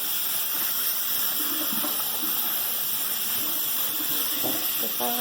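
Soapy hands are rinsed under a running tap, heard as a steady, loud, hissing gush of water lasting throughout, with faint splashing and movement beneath it.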